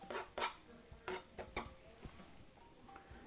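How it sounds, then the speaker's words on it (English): Sliced sweet Vidalia onions are scraped from a cutting board into a pan, heard as a few short, quiet scrapes and clinks of a utensil against cookware, spaced irregularly with no talking. "Just scrape all those into the pan."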